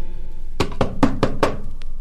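Five quick knocks on a door, evenly spaced and fairly close, sounding alone without any talking.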